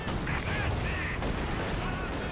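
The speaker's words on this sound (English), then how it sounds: "Small arms fire is doing some decent damage" Small arms fire in the Company of Heroes 2 strategy game forms a dense, continuous rattle of overlapping gunshots across a busy battlefield, loud and unbroken throughout.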